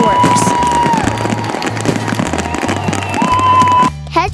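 Fourth of July fireworks at Coachman Park in Clearwater, Florida, crackle and pop in loud, repeated bursts over a steady rhythmic music bed, ending with a brief sharper flourish.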